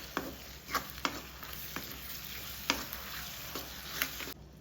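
Tomatoes with turmeric and salt being stirred in a pan, a soft low sizzle with several distinct spoon scrapes and knocks spaced through, close and moderately quiet, no talking.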